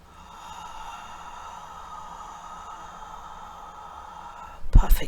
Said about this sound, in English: So take a deep breath right here.